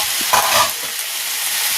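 Ivy gourd and potato frying together in a pan as they are stirred, a continuous sizzle with a couple of brief scraping strokes near the start, close and fairly loud with no voices.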